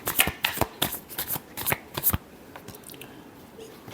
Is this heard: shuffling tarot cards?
yes